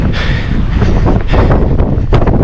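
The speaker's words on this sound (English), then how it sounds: "9 degrees with this wind" Cold wind on a Gozo ultra marathon route buffets the microphone with loud, continuous roaring and rumbling gusts; no voices are heard.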